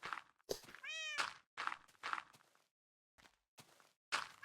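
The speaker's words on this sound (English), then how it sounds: "Here's my other 2 cats. So I have 3 cats." Cats in the Minecraft video game give one clear, close meow among short thunks and soft game clicks, followed by quiet gaps and further brief bumps.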